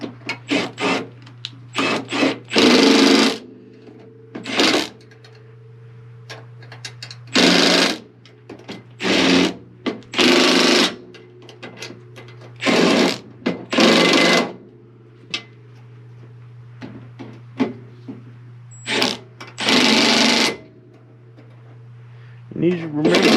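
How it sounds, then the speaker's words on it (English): An impact gun on its lowest setting drives 1/4-20 bolts into an antenna mount, firing in about a dozen short, loud rattling bursts separated by pauses, over a steady low hum. "with this gun here, I can set this down to the lowest setting and it'll go ahead and tighten these things up without snapping them off."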